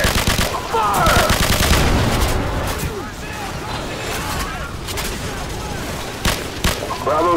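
Machine-gun bursts and heavy tank cannon blasts in the Call of Duty 4 mission War Pig, rapid rattling fire and booms packed together, with shouted voices over the combat.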